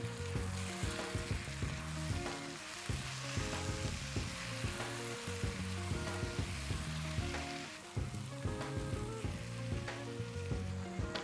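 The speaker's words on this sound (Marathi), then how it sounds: "मिक्स करूया." Raw jackfruit sabji with jaggery and lemon juice, frying and being stirred in a pan, a steady close sizzle broken by repeated rhythmic scraping strokes, with no talking.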